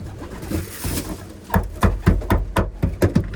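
Racing pigeons coo and flap their wings nearby, a soft cooing at first and then a run of sharp, rapid wing-flapping bursts, close and fairly loud, with wind in the background.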